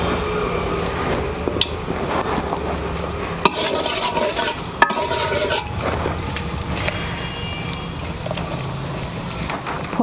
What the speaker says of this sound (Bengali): ফোড়ন ভাজা হয়ে গেছে